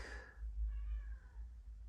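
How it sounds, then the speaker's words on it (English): A cat meows in the background indoors, one short faint meow and then a softer trailing second call over a low room hum. "You can probably hear a cat meowing in the background."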